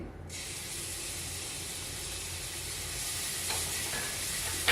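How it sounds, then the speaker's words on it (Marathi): Crushed chili-garlic thecha hits hot oil in a pan with a sudden loud, steady sizzle that holds broad and hissing from start to end, with no talking. "तेल तापलेलं आहे त्याच्यामध्ये हा मी ठेचा टाकते"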